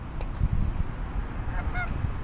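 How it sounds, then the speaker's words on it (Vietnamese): Ducks calling outdoors, a couple of short nasal honking quacks rising over a steady rumbling background noise, with no one talking. "Bắt cạn coi mấy con vịt đây nè."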